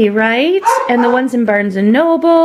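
Small dog yipping and whimpering in close, repeated bursts while someone talks over it.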